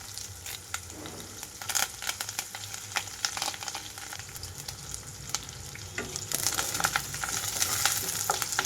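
Onions, crushed garlic and curry leaves frying in hot tempering oil for a bottle gourd and drumstick curry: a continuous crackling sizzle, close by, with sporadic stirring scrapes and bursts of spitting that grow louder toward the end.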